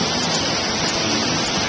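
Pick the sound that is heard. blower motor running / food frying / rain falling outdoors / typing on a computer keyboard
rain falling outdoors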